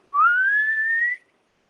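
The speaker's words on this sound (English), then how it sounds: "You can recognize this if I whistle," A person whistles a single sustained note into a microphone, rising slightly at the start and then holding steady for about a second before stopping cleanly; close, clear and alone.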